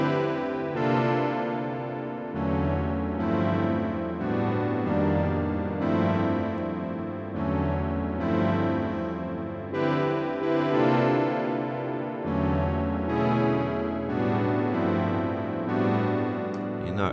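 Warm glow chords from a stock software plug-in in a lofi hip hop beat, soft sustained chord stabs repeating in a steady pattern over a low bass line, even and unbroken with no talk.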